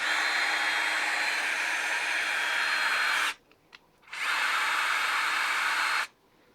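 A Bosch GSR 12V-20 brushless cordless drill runs at a steady, fairly quiet whine for about three seconds, stops briefly, then runs again for about two more seconds, close by with no talking.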